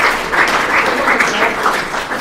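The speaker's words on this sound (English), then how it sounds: "Give me a round of applause, guys" A short, loud burst of crowd applause at a Boys State basketball pregame event, dense clapping from a gathered audience filling the space without any talk over it.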